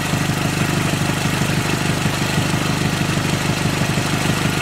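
A car idles with a new exhaust tip, giving a steady, dense rumbling drone with a fast regular pulse, loud and close, with no talk.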